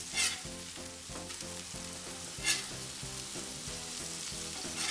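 Smash burgers sizzling loudly on a Steelmade USA flat top griddle as they are flipped, a constant close frying hiss broken by two sharp spatula scrapes against the steel, with music faintly behind.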